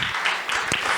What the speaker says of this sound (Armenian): Եվս մեկ անգամ եկեք ծափահարենք